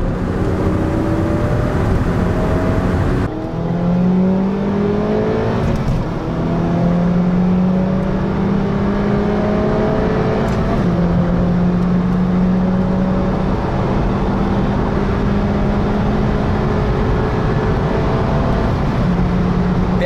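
A Chery Arrizo 8 1.6T 186 hp and a Mitsubishi Lancer 10 2.4 accelerate hard from 60 km/h. Loud engine drone rises steadily in pitch, broken by gear-shift dips, with road and wind roar beneath.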